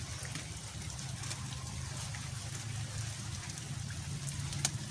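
Steady rain falls all around a garden, a dense even patter of drops with an occasional louder splash nearby.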